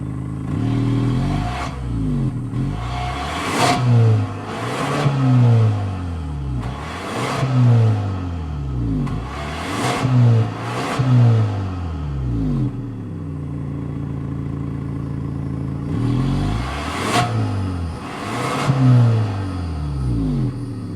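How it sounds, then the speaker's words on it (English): A 2023 Kia Stinger GT-Line with a single-turbo 2.5-liter engine revs repeatedly, deep exhaust surging up and falling back in a steady rhythm of loud blips, heard close with no talking. "let's go inside so we can really hear that turbocharge"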